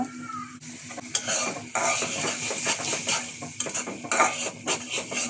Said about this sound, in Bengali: মশলা কষিয়ে নিচ্ছি,